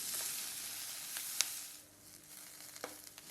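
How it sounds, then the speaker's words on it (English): Sliced onions sizzling and sautéing in hot olive oil in a skillet, a steady close frying hiss with a few brief stirring clicks, no voices. "When hot, we're going to add some extra sliced onions, and we're going to saute until they're"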